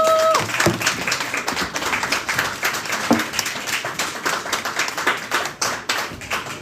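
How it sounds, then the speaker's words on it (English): Audience applause at a live comedy show in Kyiv, a dense patter of many hands clapping steadily and fairly loudly throughout, with a brief tonal beep near the start. "Round of applause for Tatiana."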